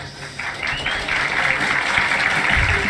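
An audience claps and cheers for a speaker, the applause swelling and holding as a dense, steady patter close by, with a voice rising over it near the end.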